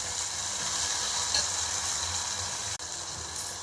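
Tomatoes go into a sizzling pan of oil with ginger-garlic paste for a dried fish and egg curry base, a steady close frying hiss with light stirring and a brief clatter near the end.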